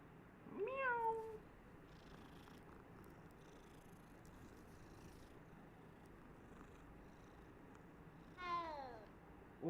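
A cat meows in the Hogwarts Legacy video game, with one rising, wavering meow near the start and another near the end over steady low background ambience, close and clear.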